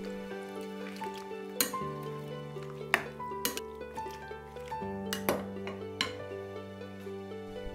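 Vegetables for Vietnamese do chua pickles are stirred in vinegar brine in a bowl, with wet squishing and repeated light clinks of utensil on dish at an uneven rhythm, close and quiet, with no talk.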